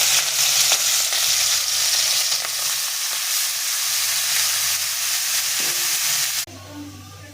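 Snails frying in oil in a wok make a loud, continuous sizzle with light stirring that runs steadily, then cuts off abruptly to a quieter background near the end.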